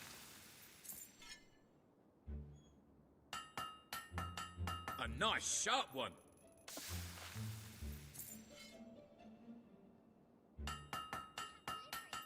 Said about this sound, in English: Great hammer work there.